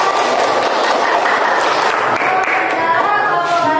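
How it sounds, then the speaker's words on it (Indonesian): Steady applause from a school class fills the room, dense and continuous, with a few voices rising over the clapping. "Tepuk tangannya semuanya."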